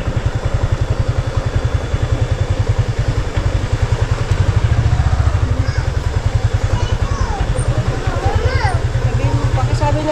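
A motorcycle engine idles close by with a steady, rapid low-pitched putter throughout, while people talk over it and faint chirps sound in the background.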